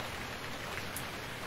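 Steady rain in the survival game Stranded Deep, a soft continuous hiss of falling drops with no breaks and no talking.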